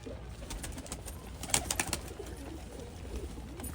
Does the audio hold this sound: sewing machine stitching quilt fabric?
no